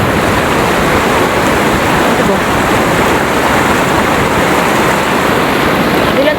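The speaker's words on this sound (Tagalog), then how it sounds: "Dungog ra gid diri kay ang tingog sa sapa ug sa mga langgam." A stream flows steadily through a forest in Valencia, Negros, giving a loud, continuous, broadband rush close by, with a brief spoken question.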